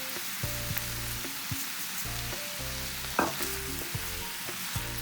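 Prawns and seasoning fry in a pan for Cameroonian spinach ndole soup, with a steady broadband sizzle and no speech; repeated low hums come and go in blocks, and a short clatter of a utensil lands near the middle.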